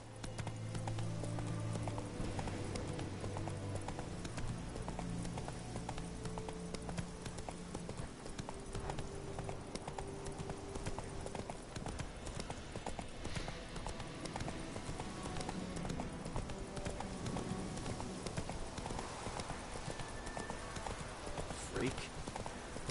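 Steady clip-clop of a horse's hooves in a video game runs throughout at an even trotting rhythm, layered under game music and occasional talking voices.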